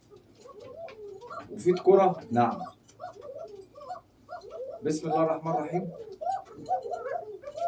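Domestic pigeons coo in a rhythmic, throaty way in two bursts under a man's steady Egyptian Arabic talk about telling male from female birds.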